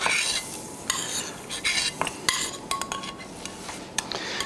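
Cooked oysters being transferred into a pot for oyster stew, with scraping and clinking of a metal utensil against cookware over a soft background sizzle, in irregular bursts close by.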